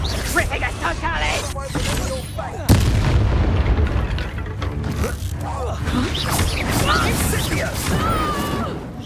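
Reductor and Confringo spell explosions in the PS5 game Hogwarts Legacy, heard as loud booming blasts and crashing impacts that sound like artillery, layered over continuous game noise with voices speaking.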